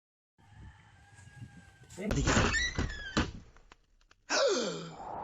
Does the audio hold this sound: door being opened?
yes